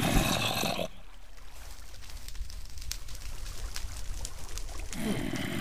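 Flowing water in the Minecraft video game, a steady soft trickling pour running alone after a brief louder burst at the start, with another louder swell near the end.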